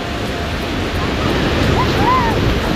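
Surf rolls in at Scheveningen beach in the Netherlands, a steady broadband wash of waves mixed with gusting wind buffeting the microphone, while faint voices drift in the background.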